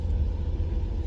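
A car driving, its engine and road noise forming a steady low rumble with no breaks, close and fairly loud, with no voices.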